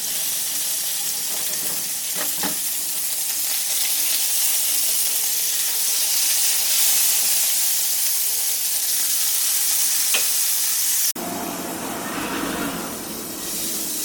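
Tiny shrimp paturi wrapped in taro leaves fry in a pan with a loud, steady, close sizzle and hiss. A few faint clicks come through, and the tone shifts abruptly near the end. No voices.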